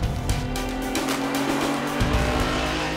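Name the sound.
1970s touring race cars, Ford Capri and BMW CSL, on track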